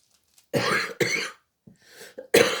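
A few short, rough coughs and throat-clearing bursts close to the microphone, separated by brief pauses.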